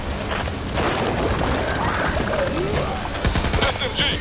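A grenade blast and bursts of gunfire erupt in the Back 4 Blood video game, loud and continuous booms and rapid shots filling the whole stretch.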